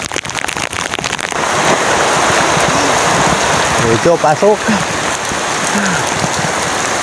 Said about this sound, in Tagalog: Grabe, lakas ng ulan pala dito.